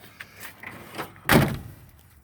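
A car's suicide door, rear-hinged and swinging open or shut, with a few light clicks and handling knocks followed by a single solid thud of the door closing, close by.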